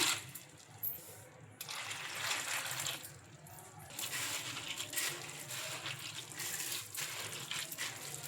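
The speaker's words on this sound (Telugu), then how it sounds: "ఇంకా ఈ మరమరాలను ఒకసారి నీట్గా వాష్ చేసుకుందాం." Puffed rice being washed by hand in a bowl of water, soft sloshing and trickling in uneven bursts, fairly quiet and close.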